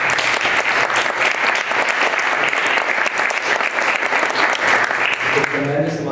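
Dense, steady applause from a conference audience for the organizing team at a closing keynote, a continuous wash of many hands clapping at full strength throughout, with a brief voice emerging near the end.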